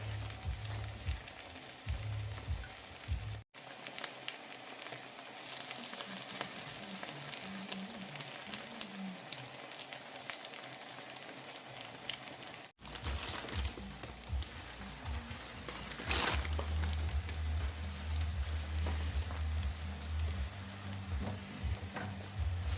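Camping meal simmering in a pot outdoors, a steady bubbling sizzle like light rain running throughout at moderate loudness, with two brief dropouts.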